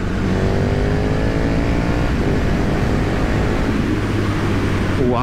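A 2020 KTM Superduke R motorcycle accelerates hard in third gear, its engine roaring loudly and rising steadily in pitch as it pulls, heard close from the rider's position with wind rush underneath.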